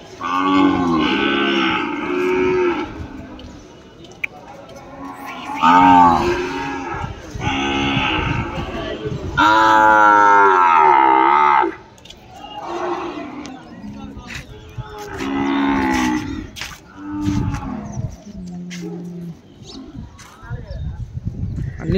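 Calves and cattle moo repeatedly at a busy livestock market, loud and close, several drawn-out calls one after another over steady crowd bustle and occasional hoof clops.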